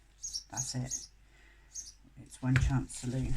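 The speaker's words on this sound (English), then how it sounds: "Apologies for the noise of the birds in the background." Short high chirps from house sparrows in the background, repeated in bursts while a person talks nearby.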